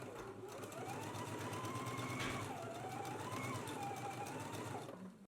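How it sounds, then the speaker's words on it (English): A sewing machine runs steadily, stitching gathering rows 3/8 inch from the raw edge of fabric for a flower, with a continuous close whirring hum that stops abruptly at the end. "We're going to machine stitch 3/8 of an inch from the raw edge"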